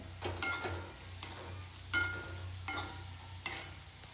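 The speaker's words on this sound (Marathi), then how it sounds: "आता आपले हे मसाले फ्राय झालेले आहे" Ground spices with turmeric and coriander powder frying in a pan make a faint, low sizzle, broken by about six sharp spatula scrapes and clacks at uneven intervals.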